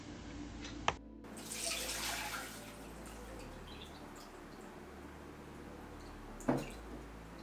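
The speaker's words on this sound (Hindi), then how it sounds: "अब हम इसे छन्नी से छान लेंगे।" Water draining from washed sago pearls through a sieve, a soft splashing trickle in a short burst near the start that tails off, with a couple of sharp clinks and no talk.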